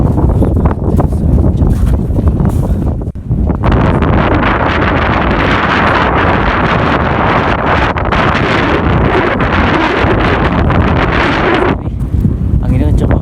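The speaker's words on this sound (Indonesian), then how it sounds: "Anginnya kencang banget." Strong wind buffets the microphone near the summit of Mount Rinjani at sunrise, a loud continuous roar with a brief dip around three seconds, steady gusting throughout and a voice speaking under it.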